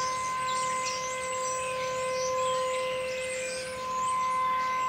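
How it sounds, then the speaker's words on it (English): A steady outdoor tornado warning siren, sounding in a monthly test, holds a constant tone from afar, with faint bird calls chirping over it. "I think you can hear the siren"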